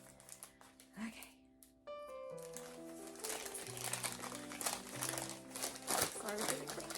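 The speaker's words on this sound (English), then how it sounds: "Sorry for the crinkling." Packaging crinkles loudly and close up in irregular bursts while wool yarn is unwrapped indoors. Someone talks over it, and a sustained piano-like tone sits in the background.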